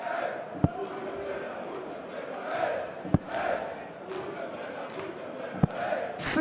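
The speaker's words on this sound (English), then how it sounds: "the crowd here in Leverkusen are giving it the Bunsen Brenner, which is Bunsen Burner" Darts crowd in Leverkusen chanting Bunsen Brenner, a steady sung rhythm from a large hall audience, broken by sharp single thuds every few seconds.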